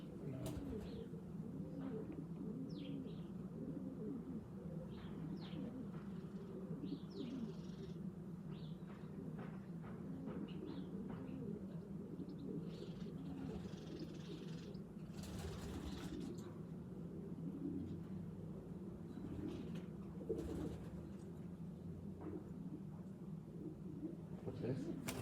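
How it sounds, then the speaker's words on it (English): Racing pigeons coo softly and repeatedly at a loft during a national race, the low throaty calls continuing under a steady background hum with occasional brief sounds. "Got to see a pigeon soon, like."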